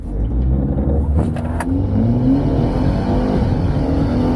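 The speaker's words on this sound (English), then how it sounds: "and surprisingly, it'll activate launch control." A 2021 BMW 228i xDrive Gran Coupe doing a launch control start, its engine droning loudly and then pulling up in pitch through a steady, hard acceleration heard from inside the car.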